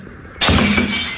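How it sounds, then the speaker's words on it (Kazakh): A glass vessel shatters in one sudden, loud crash, followed by a short tail of ringing, scattering shards. The sound is close and isolated, with no talking. "сиқырлы ыдысымызды сындырдық"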